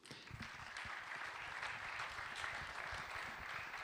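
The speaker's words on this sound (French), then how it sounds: "Merci à tous les trois, on vous applaudit" An audience at a French talk claps steadily for a few seconds, a dense even patter of many hands heard at a distance.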